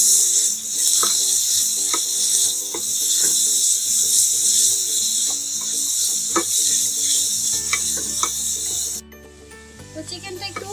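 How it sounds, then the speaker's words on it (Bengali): Marinated chicken pieces for shawarma sizzle steadily in a hot pan with a dense, bright hiss and occasional crackles and stirring clicks, shifting to a quieter, lower sizzle near the end. "এখন আমি ম্যারিনেট করে রাখা চিকেনগুলো দিয়ে দেব।"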